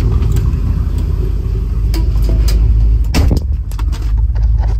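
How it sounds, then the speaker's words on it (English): A 1962 Chevrolet Impala resto mod with a manual transmission rolls down the road, its engine holding a steady, close low rumble with a few brief knocks and a short surge near the end, no talk. "I'll drive this car down the road here real quick with you."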